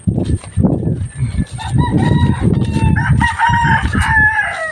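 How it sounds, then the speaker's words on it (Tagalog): Chickens in a backyard coop, a rooster crowing loudly nearby while other hens cluck and call continuously, a busy layered chorus of fowl. "dito tayo sa manukan natin"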